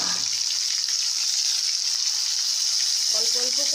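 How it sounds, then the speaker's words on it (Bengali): Lote fish fry in hot oil in a wok, giving a steady, bright sizzling hiss that continues throughout, with a faint tonal clink near the end. "কড়াতে তেল দিয়েছি, দিয়ে এইবার আমি একটা একটা করে মাছ এর মধ্যে দিয়ে দেব"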